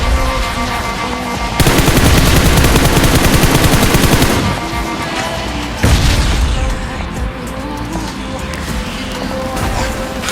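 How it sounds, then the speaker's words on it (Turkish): In a PUBG Mobile game, gunfire and explosions sound loud and dense, with rapid bursts of shots, a heavy booming stretch in the middle and another burst later, under constant game noise. "bomba attı."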